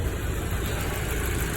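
A B7 Audi A4's engine idles steadily in a low, even rumble, heard at a moderate distance with no revving.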